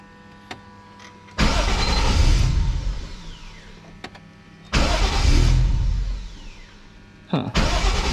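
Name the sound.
car engine starting with custom exhaust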